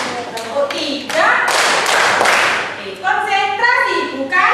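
Several sharp hand claps in a patterned rhythm in a fourth-grade classroom, mixed with children's voices chanting and calling out over them.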